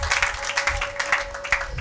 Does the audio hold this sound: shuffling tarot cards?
no